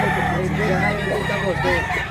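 A two-year-old Black Pini rooster crows amid a busy fowl market, its call riding over steady crowd chatter and other clucking birds, fairly near and continuous throughout.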